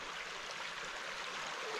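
Butler Run, a small woodland stream, flows with a steady, broad rushing babble that stays even and close throughout, with no voices.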